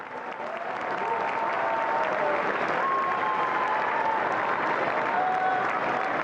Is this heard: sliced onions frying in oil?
no